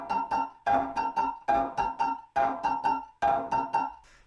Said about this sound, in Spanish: generar algo como un tech house a tantos BPMs, con algunos acordes, algunos pianos